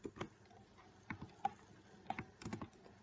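Computer keyboard keys pressed in quick succession for a copy shortcut, a cluster of sharp close clicks and taps in an irregular rhythm, quiet and alone with no talking.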